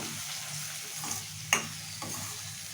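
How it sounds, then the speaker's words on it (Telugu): Tomato paste frying in oil in a pan, giving a steady close sizzle with soft stirring scrapes and a sharp clink near the middle; no voices. "టొమాటో మంచిగా ఫ్రై కావాలి చూడండి టొమాటో పేస్ట్ కూడా మగ్గిపోయి ఆయిల్ అంతా కూడా సపరేట్ అయిపోతుంది"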